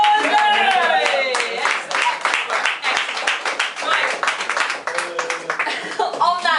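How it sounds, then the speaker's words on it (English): Applause and clapping from the audience at an open mic literary night in Paris, close and lively, mixed with cheering voices and some talk, fading briefly and picking up again. "Round of applause!"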